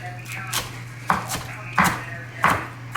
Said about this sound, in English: I just grab like a handful of the leaves of this kale and I go like this. I chop them.